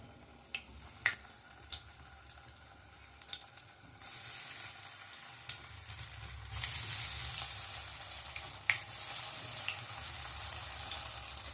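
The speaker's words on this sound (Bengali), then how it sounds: "তেলটা গরম হয়ে গেছে, একটা করে ভেজে নেব।" Mushroom pieces fry in hot oil seasoned with Kashmiri chilli powder for chilli mushroom. A steady close sizzle swells louder around the fourth and sixth seconds as more pieces drop in, with faint clicks of utensils and no talking.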